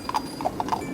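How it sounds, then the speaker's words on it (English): Horses pulling a carriage, their hooves clip-clopping in a quick uneven rhythm of about six hollow knocks against a steady rumbling background, moderately close. "Faster, lazy horses, faster!"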